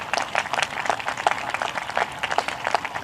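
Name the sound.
audience applause for Science Department winners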